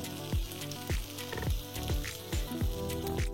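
Cream poured into a hot pan of onion and bacon lardons sizzles steadily, with rhythmic scraping and stirring strokes on the pan roughly every half second, close and clear with no voices.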